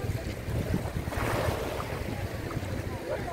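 Sea waves wash ashore on a windy beach, a steady broadband roar of surf with wind buffeting the microphone throughout, loud and close, with no talking.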